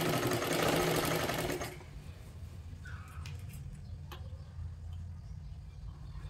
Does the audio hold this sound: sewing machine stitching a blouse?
yes